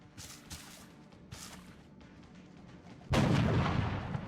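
A soldier fires a single gunshot in the turn-based video game XCOM: Enemy Within, a sharp loud blast with a rumbling tail, following quieter scattered in-game thumps and ambience.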